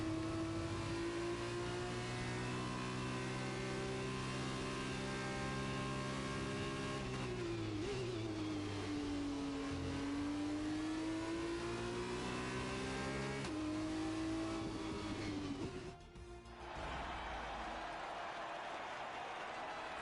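Race car engine in F1 2021 at the Portugal F2 feature race, a loud sustained engine whine shifting pitch up and down through gear changes, followed by a sudden drop and a rougher, noisier finish.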